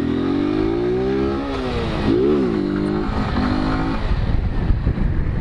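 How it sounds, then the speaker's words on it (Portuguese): Honda Fan 160 motorcycle engine revving hard, its pitch rising and dipping through gear changes in a steady drone, loud and close with rushing wind noise. "Mas é muita melodia essa moto."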